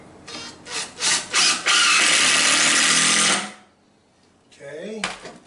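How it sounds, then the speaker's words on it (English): A power drill pre-drills a wooden 2x4 in a garage, starting with a few short revving bursts and then settling into a loud, close, sustained grinding whine for about two seconds before cutting off. A voice speaks briefly afterward. "pre-drilling this first 2x4 makes all the difference"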